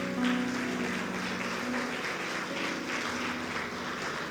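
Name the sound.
applause in church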